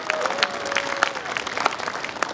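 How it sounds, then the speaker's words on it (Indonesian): Lively audience applause for all the candidate pairs at a debate, sustained crowd clapping with sharp individual claps standing out over a steady wash, and a faint tone running beneath early on. "kita berikan tepuk tangan yang meriah untuk seluruh pasangan calon"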